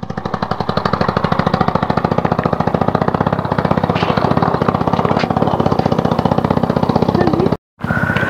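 Motorbike engine climbing a steep track uphill toward Bolumalai fort, a loud close rapid pulsing throb held steady throughout, cutting out briefly near the end.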